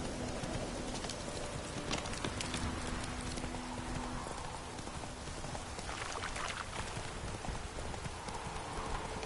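Horse hooves gallop in The Witcher 3, a rapid dense clip-clop over constant ambient wind-like noise, loud and steady with no voice.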